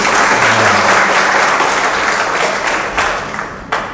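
An audience at a spiritual class in Gurugram claps loudly and steadily in a dense round of applause that tapers slightly, ending with a few scattered claps.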